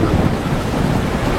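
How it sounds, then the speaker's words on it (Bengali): A loud, close thunderclap rumbling heavily through its full short length, dense and booming like a storm breaking overhead. "ঠিক সেই সময় বিকট জোরে একটা বাজ পড়ল।"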